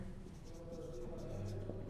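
Marker or chalk strokes on a classroom board during a cash budget lecture, a steady scratchy writing sound with soft room hum and no speech.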